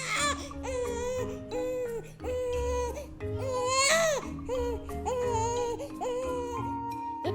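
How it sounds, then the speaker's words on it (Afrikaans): An infant cries loudly in a string of wailing, rising and falling sobs with brief breaths between, close and unbroken by talk. "Dit klink na iemand wat huil."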